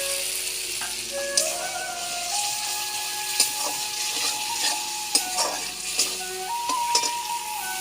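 Cauliflower and potato curry with a pinch of sugar being sautéed in a pan: a steady hiss with intermittent spoon taps and scrapes. Faint sustained tones run underneath throughout.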